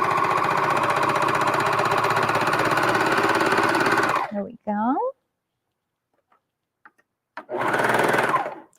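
A serger overlock sewing machine runs loud and fast on the seams of an upcycled shirt for about four seconds, then stops. A voice speaks briefly before the machine starts up again near the end.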